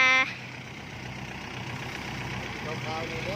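A Kubota L4708 tractor stuck in mud, its engine running steadily at a low idle-like drone throughout, fairly close, with a brief louder tonal burst at the very start and no other sounds over it.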